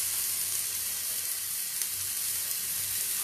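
A spoonful of garlic sizzles in oil in a pan for chicken dal fry, a loud, dense and unbroken hiss that stays level and close throughout.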